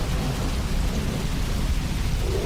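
Steady heavy rain pours throughout a storm, with low rumbling thunder rolling beneath it, a dense continuous wash of sound with no talking.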